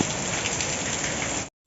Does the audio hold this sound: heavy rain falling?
yes